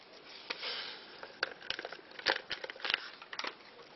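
Dry jelly crystals pour into a bowl with soft, close rustling and scattered granular patters, coming in irregular little bursts.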